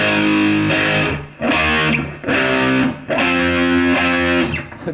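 Distorted electric guitar playing a riff: four loud, heavy strummed chords, each ringing briefly before a short break, with no talking.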